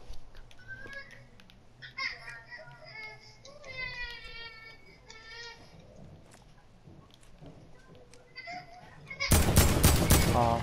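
Gunfire in the Fortnite battle royale game bursts out loud and rapid near the end, after stretches of game sounds and a voice talking.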